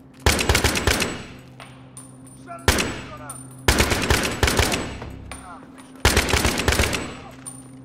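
Rapid automatic gunfire from a Battlefield 3 video game, delivered in four sharp bursts separated by short pauses, loud and close with brief ringing decays between volleys.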